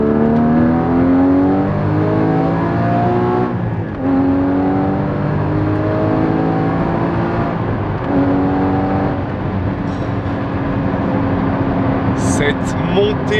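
Porsche Cayman GT4 981 with its 3.8-litre Carrera S flat-six revving hard, rising in pitch through repeated climbs with brief gear-change dips, loud and close throughout.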